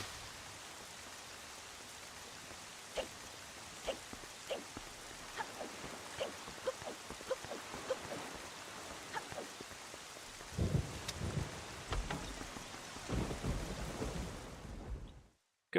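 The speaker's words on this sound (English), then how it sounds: "Could possibly be as well because of the rain sound effects." Zelda game rain hisses in a steady, soft wash, with faint irregular drops and crackles. Louder rolling thunder rumbles swell near the end before an abrupt cutoff.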